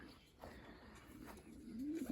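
Pigeons coo softly at a racing-pigeon competition, a low murmuring call rising near the end over faint background ambience.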